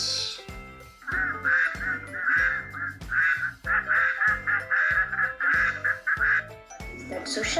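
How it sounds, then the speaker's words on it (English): A duck quacks repeatedly in a regular series of loud, close, raspy calls, with brief gaps between them and a short pause partway through, heard alone without talk. "Duck says? Quack."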